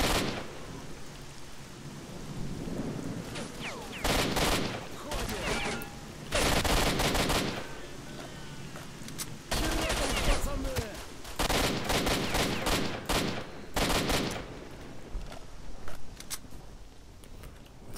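Gunfight with bandits in S.T.A.L.K.E.R.: Shadow of Chernobyl, at a military outpost. Loud bursts of automatic fire come in repeated clusters over a steady outdoor ambience, with rain-like noise between the volleys.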